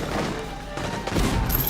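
Cannon fire batters a solid masonry church, with cannonballs fired one after the other in a short burst of loud, booming shots and heavy thuds.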